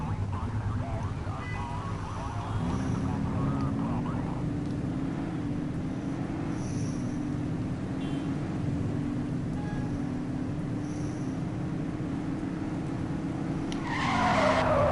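Car braking and skidding in the police video game The Precinct, a sustained tire squeal running for several seconds over steady engine rumble, with a voice speaking faintly beneath.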